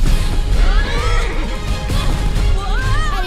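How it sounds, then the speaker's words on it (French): A spirited horse in a barn whinnies loudly and close, in an animated film trailer, with a voice speaking around the calls. "Ce cheval est bien fougueux."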